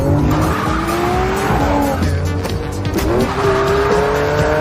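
A race car roars at close range as its engine climbs in pitch, with tires squealing and skidding over a loud, continuous engine drone and no talking.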